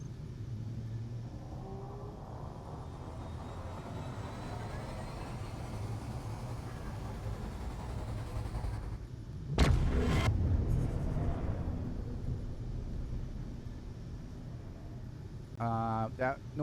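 A Star Trek–style warp jump sound mod fires as a cargo ship engages its jump drive in a video game, a sudden loud whooshing burst rising over a low steady rumble, then fading into the hum; a voice speaks briefly near the end.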